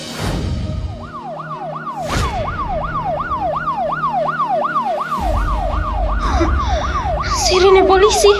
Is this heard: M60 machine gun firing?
no